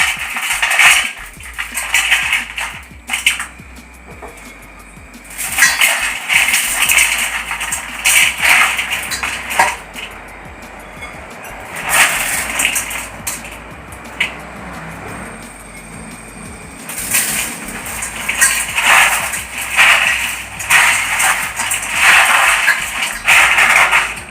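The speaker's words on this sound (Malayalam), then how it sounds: "നമ്മളത് നന്നായി ഒന്ന് ചെറുതാക്കി ഒന്ന് പൊടിച്ചെടുക്കാം" Fried sev being crushed into small pieces for a spicy snack mixture, a close, busy rattle of crisp bits and clinking metal coming in bursts, with quieter pauses between them and no speech.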